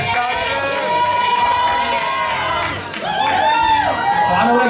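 Loud audience cheering and whooping at a NABBA bodybuilding championship posedown, with dense shouting voices and whistles filling the hall, dipping briefly before surging back up.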